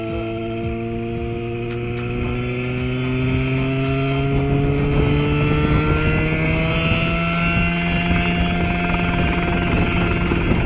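Homemade helicopter engine and rotor running steadily and loudly close by, a droning buzz with strong rising harmonic tones as it revs up, continuous for the whole stretch with no talking.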